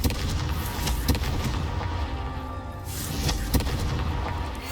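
In Hogwarts Legacy, Confringo fire spell blasts go off as a series of heavy booming thuds, several sharp explosive hits spread over a few seconds amid a dense rumbling game soundscape.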